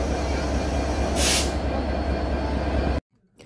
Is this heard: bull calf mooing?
no